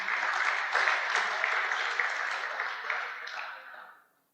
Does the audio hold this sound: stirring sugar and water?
no